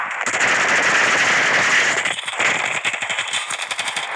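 Loud, rapid gunfire in the game Standoff rattles in bursts, with sharp repeated shots toward the end and no talking.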